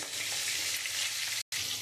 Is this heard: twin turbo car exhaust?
no